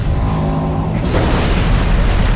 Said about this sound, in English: Then, a huge explosion buckles the hull,